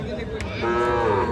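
A young Sahiwal heifer lets out a short, close moo that rises into a drawn-out nasal call.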